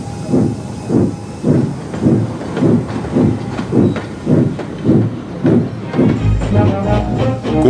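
A steam engine, Gordon, pulls slowly out of a station, its loud, near chuffs coming in steady evenly spaced puffs with hissing steam, about eleven beats, then a low rumble swelling at the end.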